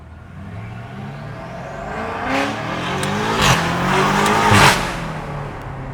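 From inside a loud car with all its windows down, the engine revs and climbs in pitch through repeated gear changes, growing louder, with rushing wind and sharp bursts near the end.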